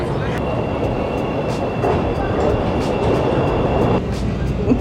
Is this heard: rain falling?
no